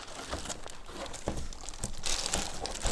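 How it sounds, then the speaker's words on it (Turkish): Packaging foam is pulled out while unboxing a Trust Lino XL 2.1 Bluetooth soundbar with subwoofer, giving close crinkling and scraping that grows louder and busier toward the end, with no talking. "Evi dağıtmadan şu köpüğü ben bir alayım."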